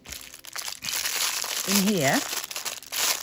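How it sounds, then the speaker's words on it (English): Plastic craft packaging crinkles and rustles close by for a few seconds while a person talks over it. "sorry for the crinkling"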